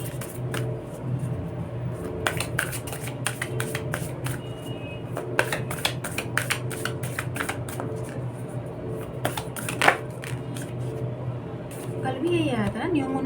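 Tarot cards from an oracle deck being shuffled close by, a run of quick riffling snaps and flicks in uneven bursts, with someone talking softly underneath.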